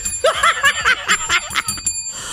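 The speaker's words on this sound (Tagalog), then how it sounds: "Meron kasi kami ditong bell." A small bell rings out, sustaining over nearby chatter and laughter as people react to an online order being checked out.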